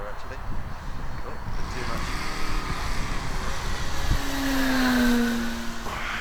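A Sig Yak-18 RC model airplane's engine drones steadily overhead while voices talk, then a bright rising whistle sweeps in briefly near the end.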